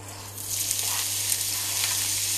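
Chopped onion and shallot hit hot oil in a pan and sizzle loudly and steadily, a dense bright crackle that swells just after the start, with a low ventilation hum beneath.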